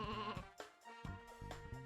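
Sheep bleat in the Sheep Raider video game, two or three wavering calls in quick succession, close and clear with no talking.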